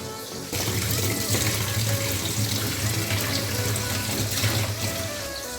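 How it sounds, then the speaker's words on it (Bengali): Tap water gushes steadily into a sink while new potatoes are washed, a continuous close splashing stream that starts abruptly and runs without pause. "আর নতুন আলুগুলোকে একটু ভালো করে ধুয়ে নিতে হয়"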